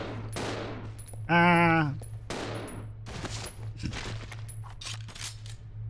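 Gunfire in the video game Resident Evil Zero: a handful of sharp shots scattered over a low background hum, with a brief loud tonal burst from the game and a short exclamation from a player.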